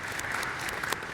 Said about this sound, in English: Another round of applause for our wonderful presenters.